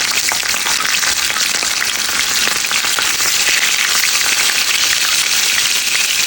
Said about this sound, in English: Let's saute shallot first.